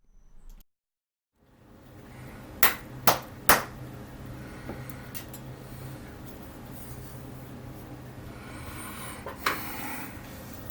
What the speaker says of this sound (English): I'm going to clap my hands 3 times here